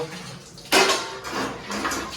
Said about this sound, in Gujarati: જો વાસણ ધોવાઈ ગયા ગાઈસ બધા